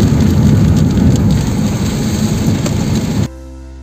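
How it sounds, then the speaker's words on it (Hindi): Heavy rain pounds steadily on a car on the road to Nainital, a loud, dense wash of drumming that fills the cabin before cutting off abruptly near the end. "बारिश बहुत ज़्यादा तेज़ है यहाँ पे"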